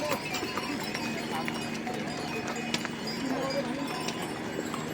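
Horse and mule hooves clip-clopping at a walking pace on the Kedarnath pilgrimage route amid a busy outdoor din, with voices and general crowd noise mixed in throughout.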